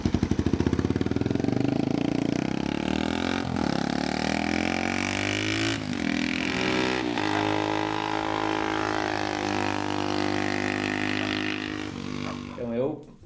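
A Honda CG or Indian Scout motorcycle engine roars loudly through its exhaust, revving up and down in sustained bursts at close range.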